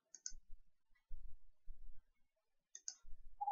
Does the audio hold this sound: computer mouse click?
yes